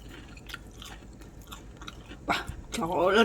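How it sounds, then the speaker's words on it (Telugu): Crunchy bites and chewing of ridge gourd fritters, a few soft munching sounds followed by a louder crisp bite near the end, close to the mouth; faint voice-like sounds appear in the background. "బీరకాయ బజ్జీ ఎలా ఉందో టేస్ట్ చూసి చెప్తాను."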